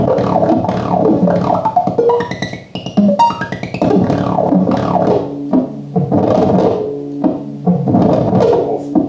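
Squelchy, warbling synth tones from feedback cross-modulated filters, pitches sliding and tumbling downward, dense and busy throughout, no voices.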